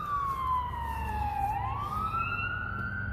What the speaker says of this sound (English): We got the ambulance going there.